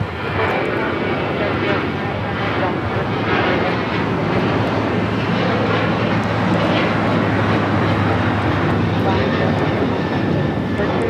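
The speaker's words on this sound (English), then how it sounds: "This is Alaska Airlines Flight 6 taking off to Washington Reagan National on the 737-800" An Alaska Airlines Boeing 737-800 jet takes off from Los Angeles LAX for Washington Reagan National, its steady loud engine roar sustained throughout, with people talking over it.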